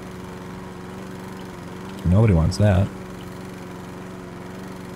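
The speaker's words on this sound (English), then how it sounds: "people like me have to come along and do a horrible job of mowing your lawn" Lawn mower from the House Flipper video game, a steady low engine drone running throughout at moderate level, with a short burst of speech in the middle.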